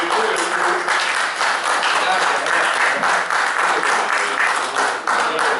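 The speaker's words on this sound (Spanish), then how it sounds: "Aplaudimos." An audience at a city forum in a club gives sustained, dense applause after an award presentation, a steady loud wash of clapping with voices mixed in.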